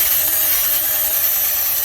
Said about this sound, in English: we're going to use my 3/8 Black & Decker drill